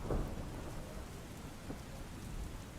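Heavy overnight rain pours steadily over Ahmedabad's streets as a dense, constant wash of rainfall, with a louder rumbling burst at the start and no voices.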